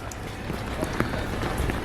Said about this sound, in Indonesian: Hujan terus di sini, hah?